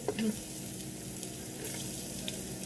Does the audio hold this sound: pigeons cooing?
no